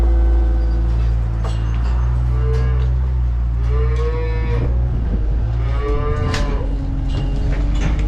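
Cattle moo repeatedly on a farm at feeding time, several long, loud, close calls rising over a steady low engine or machinery rumble, with no talking.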